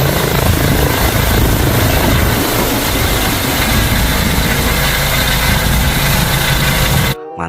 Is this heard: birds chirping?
no